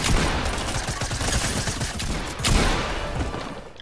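Gunfire in a video game, dense rapid firing that runs continuously and loudly for the whole stretch, with no talking over it.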